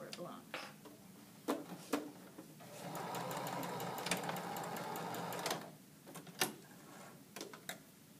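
A sewing machine runs a steady stitching burst across a shirt sleeve binding, sewing a small corner at the top of the fold, with quieter taps and handling sounds before and after and faint talk nearby.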